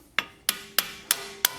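Five sharp metallic hammer strikes on a Honda EM1 Civic Si suspension part, spaced roughly a third of a second apart, each ringing briefly before the next, close and clear with no talking.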